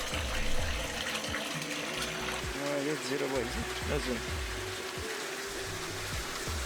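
Water gushes and splashes steadily from a pipe into a bucket, with some tonal hum and clatter mixed in.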